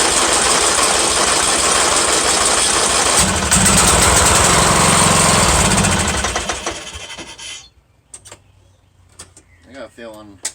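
A John Deere L100 lawn tractor engine runs loud and rough after choking, revving unevenly for several seconds before sputtering out, leaving a few quiet clicks and a faint voice.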